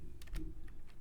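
A few quick keystrokes on a computer keyboard as a file name is entered, soft close clicks over a low steady hum, no talking.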